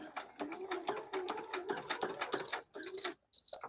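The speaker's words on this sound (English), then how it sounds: "Ooh, this machine beeping. Beeping, beeping, beeping." Short, high electronic beeps from a sewing machine repeat in a quick series near the end, following a stretch of soft machine whirring and clatter.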